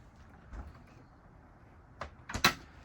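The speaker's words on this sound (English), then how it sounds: "In order to open up the refrigerator, you must push this first and then pull the knob." A small refrigerator door in a Class C RV is unlatched and pulled open, giving a few short clicks and thumps near the end after quiet room tone, with one softer knock earlier.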